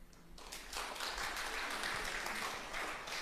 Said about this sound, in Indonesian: Nanti di rumah latihan tepuk tangan.